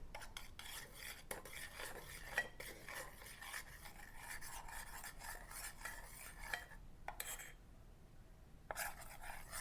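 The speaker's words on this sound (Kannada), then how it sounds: "ಅದಾದಮೇಲೆ ಚೆನ್ನಾಗಿ ಮಿಕ್ಸ್ ಮಾಡ್ಕೊಳ್ಳೋಣ." Cake batter with cornflour stirred in a pan over a low flame, giving faint, continuous scraping and rubbing of a spoon with occasional light clinks, brief quiet gaps and no talk.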